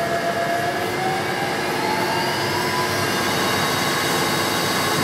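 A steady, droning engine hum running at about 1300 RPM after being fired up, constant and fairly loud with faint whining tones, no speech.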